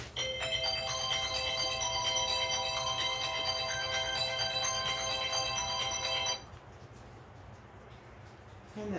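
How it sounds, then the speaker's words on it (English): A phone ringtone plays a repeating electronic melody for about six seconds, fairly loud and steady, then cuts off, leaving quiet room noise. "the minute that I start doing things that I love doing, the phone rings"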